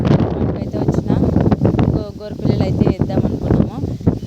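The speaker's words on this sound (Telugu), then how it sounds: "గాలి ఎక్కువగా ఉంది కాబట్టి మీకైతే సౌండ్ కూడా అట్లనే వినపడుతూ ఉంటుంది గాలి గాలిగా" Strong wind buffets the microphone with low rumbling gusts while a person keeps talking over it.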